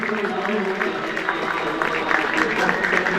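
Audience applause at a boys' high school annual farewell party fills the hall as steady, dense clapping that runs throughout, with voices carrying over it.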